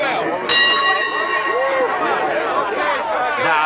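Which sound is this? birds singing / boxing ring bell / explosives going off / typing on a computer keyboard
boxing ring bell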